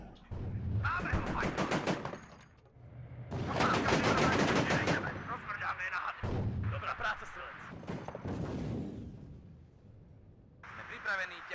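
Gunfire and artillery in the Cold War strategy game WARNO: heavy booming volleys and rattling bursts of fire, loud and dense, coming in several long waves with brief gaps between them.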